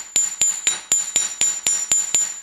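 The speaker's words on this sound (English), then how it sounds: "let's go ahead and we'll get our chasing hammer, and we're going to go ahead and we're going to hammer this" A chasing hammer strikes wire on a hard block for a wave pendant, ten sharp ringing metallic taps at a steady, even pace, close and loud with no talk.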